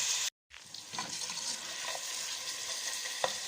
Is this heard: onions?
yes